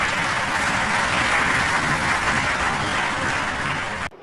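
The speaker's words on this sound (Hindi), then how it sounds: "उनके सामने बैठे सारे पढ़े लिखे लोग अंधभक्तों की तरह ताली पीट रहे हैं।" An audience of educated listeners claps for Modi's story, a thick, steady wash of applause that stays loud for about four seconds and then cuts off abruptly.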